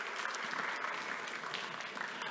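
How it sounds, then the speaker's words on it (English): Audience at an economic conference on Danube–Black Sea opportunities claps steadily, a faint, even patter of many hands heard from a distance for a couple of seconds. "A big round of applause if it's possible"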